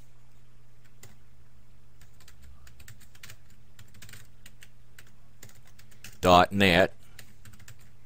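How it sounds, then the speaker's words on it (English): Light, quick keystrokes on a computer keyboard, a sparse run of soft clicks over faint background hum, close by, followed by a short burst of speech near the end. "but you just type in your domain right there."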